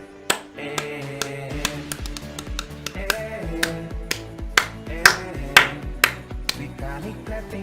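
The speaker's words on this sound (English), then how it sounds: "Vitalik clapping, clapping, clapping, clapping." A run of sharp clapping hits, irregular at first and then faster and louder, set over a ringing musical backing.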